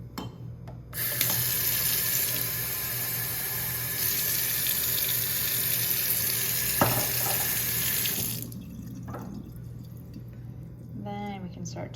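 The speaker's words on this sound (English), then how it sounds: "we're gonna have to add a little bit of water" Water runs from a tap into a jar of fermenting cucumber seeds, a steady splashing stream for several seconds that stops abruptly, followed by faint handling noises and a voice.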